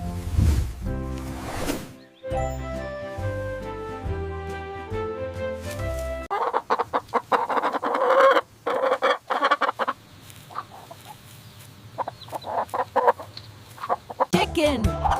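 A chicken clucking in short, scratchy bursts after a few seconds of bright melodic music, moderately near and fairly loud.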